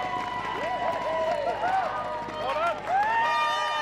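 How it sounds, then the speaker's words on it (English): A hockey stadium crowd at the 2019 FIH Olympic Qualifier, New Zealand vs Korea, roars steadily, with rising and falling cheers and whistle-like tones over a continuous din. "now the crowd start to react"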